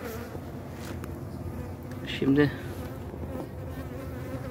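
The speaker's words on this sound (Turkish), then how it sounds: "Arı çok saldırıyor. Eşek arısı da var." Honeybees buzz steadily around an open beehive while a beekeeper works capped honeycomb frames, with hornets also present; a close, continuous drone with a brief louder buzz passing near, and someone briefly speaks.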